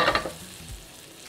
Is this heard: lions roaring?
no